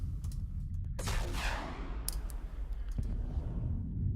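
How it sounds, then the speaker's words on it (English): A missile bombardment in the space strategy game Stars In Shadows: rapid crackling bursts and clicks pile into a sustained, booming volley of launches and impacts. "Starting the bombardment."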